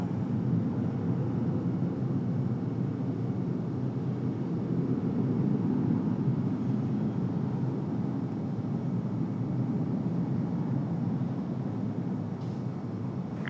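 Frontier Airlines jet powering up at Raleigh-Durham International Airport before departure, a steady, loud broadband engine roar held throughout with no speech.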